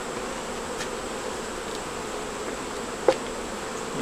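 Steady honeybee buzzing hums continuously at an open hive, a busy swarm drone with one brief sharp tap near the end.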